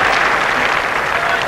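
Spectators at a 1981 Ashes Test match applaud a fifty partnership, a brief dense wash of clapping from a large crowd, steady and loud throughout.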